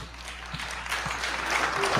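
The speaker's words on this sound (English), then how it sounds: "Applause for a mic check." An audience claps after a microphone check at a rocket launch event, a dense wash of applause with a few sharper claps standing out, alone and without speech.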